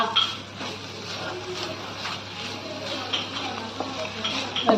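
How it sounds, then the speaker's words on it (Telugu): Coriander leaves frying in a little oil in a pan, a soft continuous sizzle with occasional stirring scrapes, close and moderately quiet, no voices. "ఈ కొత్తిమీర బాగా కొంచెం నూనెలో వేగేంత వరకు ఉంచుకుందామండి"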